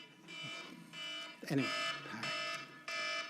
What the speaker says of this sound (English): I'm very sorry about why this alarm is so hard to shut off.